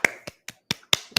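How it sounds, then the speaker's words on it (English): Six sharp, dry hand claps ring out one after another at a fairly even, quick pace, each crisp and close with brief silence between them. "I got a clap for that one."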